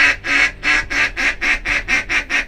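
Ducks on the water during a hunting-season opening day give about ten loud, close quacks in a rapid, even series with no voices.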